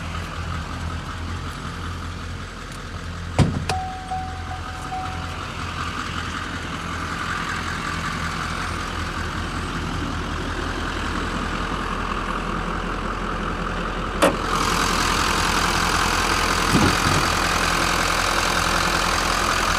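A 2015 Chevrolet Silverado 2500HD High Country's 6.6-liter V8 Duramax turbo diesel idles with a steady, continuous rumble and clatter, heard close with the hood open, with a couple of brief clanks and a slight rise in level partway through.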